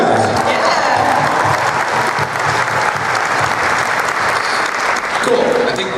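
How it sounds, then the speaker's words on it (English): A large convention crowd at a Doctor Who Q&A panel applauds Peter Capaldi with dense, sustained clapping that stays loud and even throughout, with faint voices mixed in. "We can applaud for Peter Capaldi."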